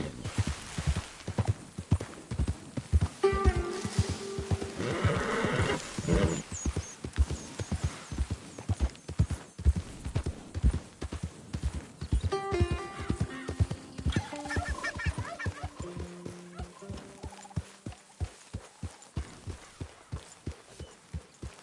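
Hooves of a horse in a PS4 video game clip-clop in a fast, steady rhythm throughout, with a horse whinnying in short bursts along the way and no talk.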